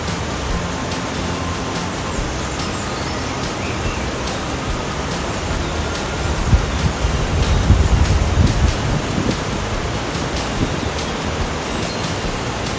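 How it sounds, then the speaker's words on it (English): Rushing river water at the start of a hiking trail in Andalusia, Spain, a steady, broad roar that holds throughout and swells slightly in the middle, with no voices. "you love the sound of rushing water"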